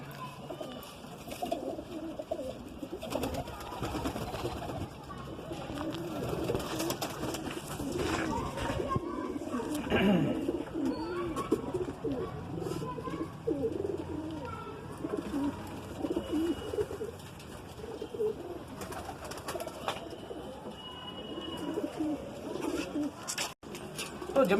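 Continuous soft cooing from several Madrasi pigeons together, steady and close, with some faint background noise.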